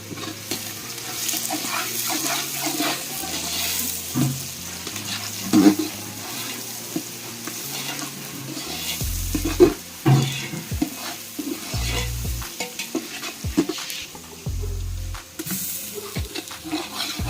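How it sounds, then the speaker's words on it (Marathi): Onions fry in oil over a wood-fired stove for Malvani chicken, a steady close sizzle mixed with repeated stirring scrapes and a few knocks, with dull low thumps in between. "कांदा टाकलेला आहे काकीने, तेलामध्ये मस्त की भाजणार आहे"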